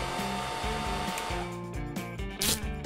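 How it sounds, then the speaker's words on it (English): A hair dryer blows close by with a steady whirring hum, its pitch and airflow shifting slightly as it moves. "Hair dryer."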